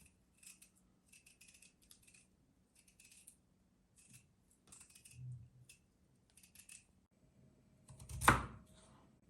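Light, intermittent knife taps on a cutting board as vegetables are chopped, short clusters of chopping spread across the clip, then a louder clatter near the end.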